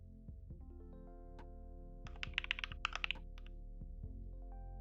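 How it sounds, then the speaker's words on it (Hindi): Quick cluster of computer keyboard keystrokes typing text, a short rapid run of clicks in the middle over a steady electronic hum and tones. "टेक्स्ट टाइप देंगे"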